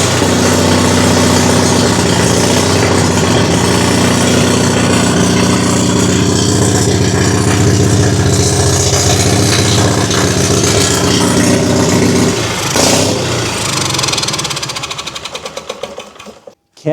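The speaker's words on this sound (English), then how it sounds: "So I think the generator is working fine. It runs really well." An Onan Emerald generator engine runs loud and close with a steady droning hum and mechanical clatter, then shifts and sputters near the end before cutting out into a few fading knocks.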